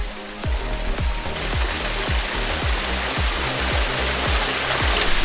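A waterfall in Sikkim roars steadily and loudly close by while water is being collected. Soft rhythmic thuds repeat under the constant rushing.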